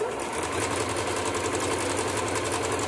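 A sewing machine stitches the border of a dish towel, a steady close mechanical whirring with a fast even rhythmic pulse throughout, no talking.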